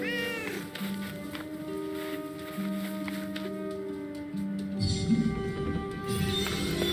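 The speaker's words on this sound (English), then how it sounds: "A cat." A cat meows repeatedly in the Forspoken video game, its close, drawn-out calls rising and falling over a steady game soundscape.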